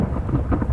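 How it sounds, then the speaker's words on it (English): Steady rain with low rolling thunder in The Infected survival video game, heard from indoors under shelter, a continuous dense low rumble without speech. "It is raining, but we're nice and dry in here."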